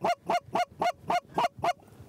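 Flying geese give seven evenly spaced, loud honks in a steady rhythm, close and clear against a quiet outdoor background during a Montana hunt.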